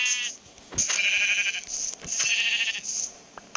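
Two drawn-out, wavering goat bleats in the Minecraft video game, each lasting about a second, loud and close with a short gap between them, with no talking.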